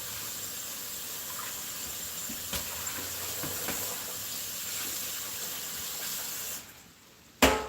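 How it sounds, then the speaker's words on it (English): Tap water runs steadily into a sink, a soft even hiss under a quiet kitchen, with a couple of faint clicks before the flow cuts off near the end and a sharp knock follows. "I got the water running."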